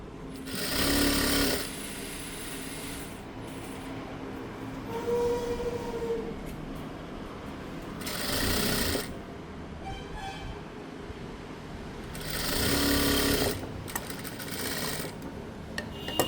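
Electric sewing machine stitching a girl's shirt, a rapid mechanical whir in three bursts of a second or two, separated by quieter gaps with faint handling noise, no talk.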